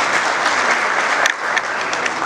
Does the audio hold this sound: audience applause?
yes